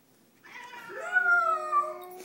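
A single drawn-out cat meow, rising and wavering, close and fairly quiet, heard alone in a quiet room.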